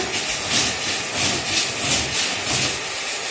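Knife cutting through a large 3 kg chitol fish in a home kitchen, steady rhythmic sawing strokes about every half second, close and moderately loud, with no talk.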